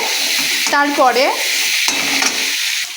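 Sizzling fry in a pan with salt and turmeric being stirred in, bright crackle with a few scraping stir strokes, close and loud, no talking.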